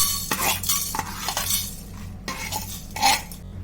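Chana dal, coriander seeds, fennel and dried coconut are dry roasted in a pan, heard as close, irregular scraping and clinking from a stirring utensil against the metal, with short bursts of rattling seeds.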